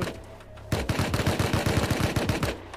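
A sustained, rapid burst of automatic gunfire in the survival game Rust rattles steadily for about two seconds after a brief quiet lead-in, loud and close.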